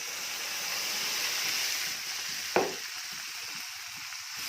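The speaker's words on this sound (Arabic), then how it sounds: "البصله اتحرقت اهي واحمرت خالص، هنطش عليها بقى الميه اهي" Water splashed onto deeply browned, nearly burnt onions in a hot pot for sayadieh fish and rice sets off a sudden loud hiss and sizzle, breaking over a steady background frying crackle and then fading down.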